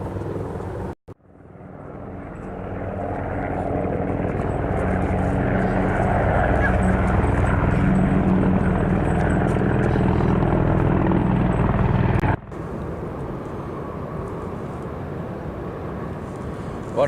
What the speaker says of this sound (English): There are a lot of helicopters.